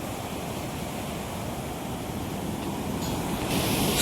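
Steady rushing river water at the Minajhola waterfall roars continuously, a dense broadband wash that swells slightly louder toward the end, with no voices.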